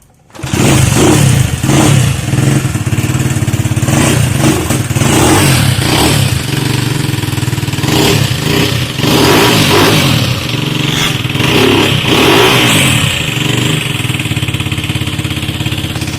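A motorcycle engine in for repair of an electrical fault runs loud and close throughout, idling with a steady rough throb and rising in several revving swells, with light mechanical clatter and no talk.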